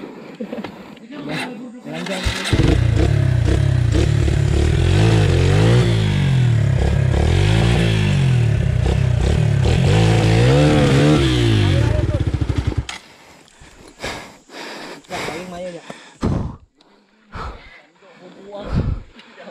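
An enduro motorcycle rides a dirt trail near Digos City, its engine roaring loud and close for about ten seconds, then cutting to intermittent bursts and knocks as it moves on.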